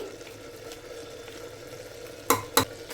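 Chili powder, turmeric and cumin powder stirred in a hot pan for tomato bath, with a soft steady sizzle under the spoon and two sharp scraping clanks near the end.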